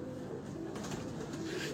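Pigeons cooing on a Lahore rooftop loft, a steady run of soft, overlapping coos close by against low background noise, with no voices.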